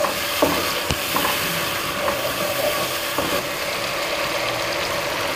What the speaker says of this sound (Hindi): अब हम इसमें थोड़ा सा ऐड करेंगे और इसको मिक्स करेंगे।